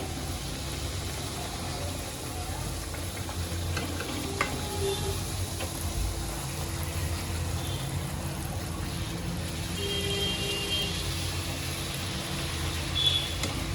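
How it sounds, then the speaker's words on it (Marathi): Pooris deep frying one by one in hot oil, a dense continuous bubbling sizzle that stays steady and close throughout, with faint clinks and no talk. "मी एक एक करून अशीच पुऱ्या सगळ्या तळून घेते"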